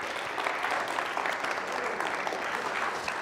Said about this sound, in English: How about we give Pastor Alberts a round of applause?